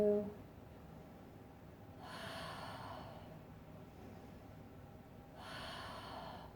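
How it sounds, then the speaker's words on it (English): Deep breathing during a yoga session: two long, soft breath sounds, the first rising around two seconds and the second near five and a half, each a broad airy swell over a quiet room hum. "Breathe through."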